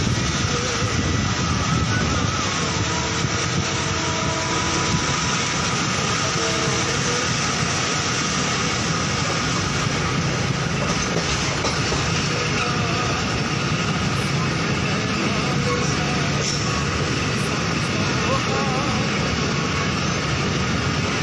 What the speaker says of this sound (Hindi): महर एक्सप्रेस इस वक्त कोटादू शहर की हदूद से गुज़र रही है और कोटादू जंक्शन की तरफ रवा दवा है।